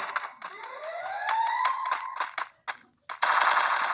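Rapid automatic gunfire in the mobile battle game Free Fire rattles in quick bursts with a brief pause, over a rising whine and game effects, ending in a dense burst of shots.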